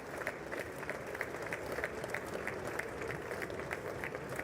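Applause during a presidential address to Congress, steady dense clapping from a large chamber crowd, heard from a distance with a faint murmur beneath.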